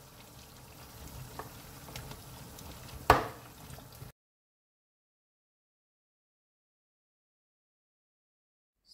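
Chili frying in oil in a cooking pot gives a steady crackling sizzle, with a sharp clatter midway, before cutting to silence.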